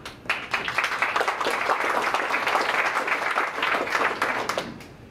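Audience applause at a tech lecture on designing and developing for Google Glass, steady clapping from a room of people that runs continuously, fairly close, with no talk over it.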